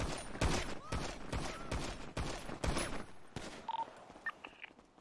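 Rapid bursts of video-game gunfire in GTA 5 roleplay, loud and dense in the first three seconds, then thinning out into a few scattered shots and short electronic beeps.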